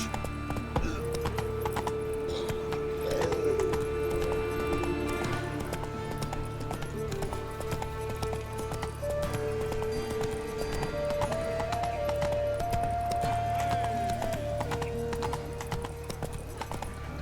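Roach the horse trotting in The Witcher 3, steady rhythmic hoof clip-clop throughout, close and clear, with soft music tones running over it.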